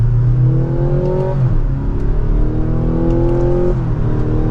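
A 2024 Mazda CX-90 Premium Plus hybrid pulls away in second gear in sport mode, engine note rising steadily through two climbing sweeps, heard from inside the cabin, loud and continuous.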